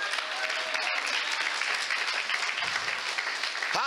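A church congregation applauds in acclamation during a pastor's sermon, a dense, steady wash of clapping and crowd noise filling the space for several seconds, with a voice briefly rising at the end.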